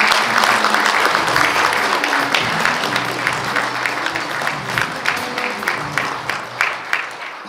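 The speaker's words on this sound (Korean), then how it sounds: "여러분 큰 박수를 한번 보내주면 어떨까" An audience at the results ceremony for the 2022 Goesan World Organic Industry Expo claps steadily and loudly as sustained applause, with a few louder individual claps toward the end.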